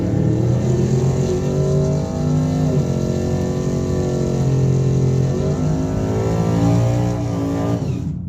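A big-turbo Ford Fusion makes a solo eighth-mile drag strip pass, its loud engine roaring steadily and climbing through rising harmonic sweeps with audible shifts, then cutting off abruptly at the end.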